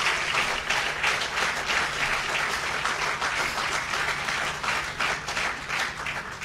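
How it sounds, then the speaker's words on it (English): An audience at an outdoor New Jersey bridge groundbreaking claps steadily for the House of Representatives, a dense, even wash of applause that holds at the same level throughout. "Would you please give a round of applause for our House of Representatives?"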